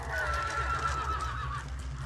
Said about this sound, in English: These horses are mad.